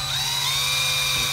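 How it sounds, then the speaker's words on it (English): A power drill bores a small pilot hole into a pontoon boat for a transducer bracket, a steady, loud, high whine held without a break and with no speech. "We're going to drill our first hole in the boat."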